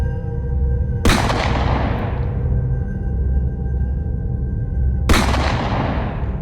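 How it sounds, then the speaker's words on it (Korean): Two sharp warning gunshots about four seconds apart, fired on a mountain, each loud and echoing with a long fading tail over a steady low rumble. "형사가 도망가는 자연인을 향해 경고 사격을 했습니다."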